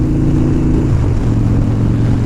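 A loud Harley-Davidson Dyna Street Bob engine with a 103 motor rumbles up close, its low drone shifting in pitch as the rider opens the throttle while moving.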